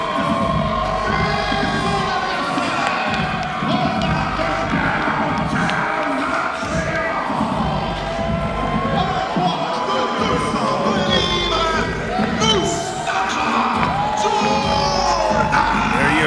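Wrestling crowd in downtown Montreal erupting as hometown favorite Mustapha Jordan heads to the ring at Pandemonium III, a loud, sustained wall of cheering, shouting and whoops that stays dense for the whole stretch.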